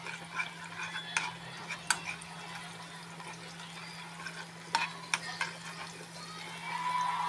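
Garlic toasting in a pan, with a soft steady sizzle and a low hum under it, broken by occasional scrapes and clicks of stirring.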